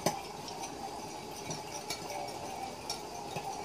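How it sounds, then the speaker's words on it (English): A spoon stirs sugar into tea in a cup, giving faint, steady scraping with light clinks against the side, quiet and close, with no talk. "I'm going to stir that real good so that it's blended in."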